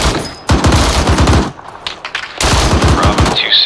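Loud, close bursts from a .50 caliber machine gun in an Arma 3 firefight, two sustained volleys of rapid shots separated by a short gap with scattered quieter pops.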